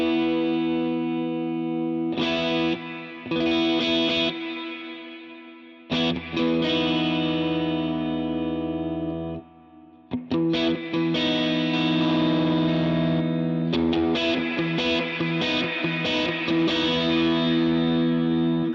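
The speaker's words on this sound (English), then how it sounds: "So the next thing I did was I added a second reverb," Electric guitar played through a Helix Stadium XL with a second reverb added on top of two delays, chiming chords and notes in bursts separated by gaps, each washing out into long ambient tails.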